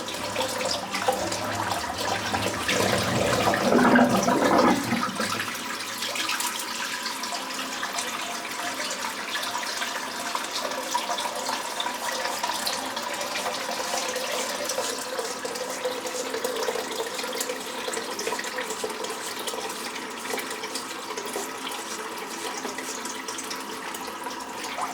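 Water draining from a bathroom sink after a head shave, opening with a louder gurgling rush for a few seconds and then settling into a steady, moderate trickle and wash that runs on with no talking.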